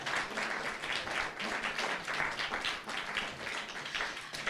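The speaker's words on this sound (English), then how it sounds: "Can we get a round of applause, please?" A round of applause at a Jamaican heritage week celebration, steady, even clapping from the audience, heard alone at moderate distance.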